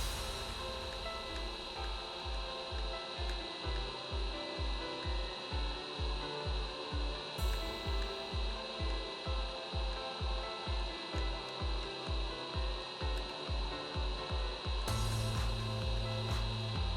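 A scalpel scrapes rhythmically at broken pads on an electronic circuit board, quick repeated close-up strokes at a steady pace, faint and without talk.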